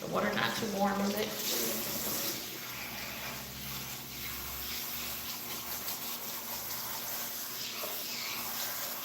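Tap water runs steadily into a sink while hair in box braids is rinsed and shampooed, a constant close splashing hiss under occasional conversation.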